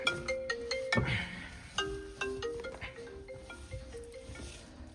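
A phone ringtone plays a repeating electronic melody, fairly close and clear, with a few soft background knocks and no talking.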